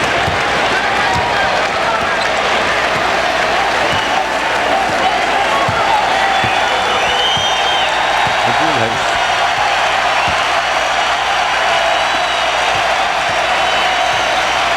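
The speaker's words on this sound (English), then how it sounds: "Crowd is on its feet," Arena crowd at a 1993 NBA playoff game, Cavs versus Nets, roaring and cheering in a steady dense wash, with a commentator talking over the noise.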